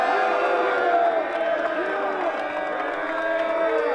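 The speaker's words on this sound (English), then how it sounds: "An enthusiastic crowd" Enthusiastic crowd of high school students at Providence Catholic High School in New Lenox cheering and whooping together, a steady loud wash of shouting voices with rising yells throughout.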